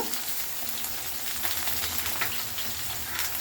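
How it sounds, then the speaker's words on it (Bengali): Cut eggplant frying in hot oil over a high flame for a vegetarian begun bhapa, a loud dense sizzle close up with occasional stirring scrapes running throughout. "তেলের ওপরেই আমি দিয়ে দিচ্ছি বেগুন যেটা আমি কেটে রেখেছিলাম"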